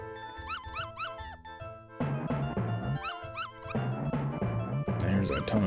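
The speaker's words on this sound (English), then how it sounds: "There's a ton of puppies." Puppies yap and whimper in the Earthworm Jim 2 video game, quick high cartoonish yips repeating in bursts over game music, with someone talking alongside.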